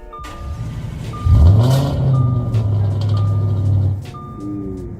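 Six-cylinder car engine in the Roblox game Greenville revving up loudly and holding a steady drone, while a repeating electronic beep chirps at intervals and faint game sounds sit underneath.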